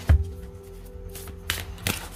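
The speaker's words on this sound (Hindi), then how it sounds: "चलो करते हैं कार्ड्स की शफलिंग" Tarot cards being shuffled by hand, with soft riffling flutters and a couple of sharper slaps at the start and end, close and fairly quiet with no talk.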